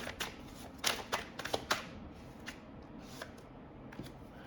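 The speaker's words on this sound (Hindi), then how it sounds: "मैं एक क्लैरिफाई कार्ड निकालना चाहूँगा।" Tarot cards drawn and shuffled from a deck during a reading, giving a few quiet papery flicks and slides in the first two seconds, then softer scattered rustles, with no talking.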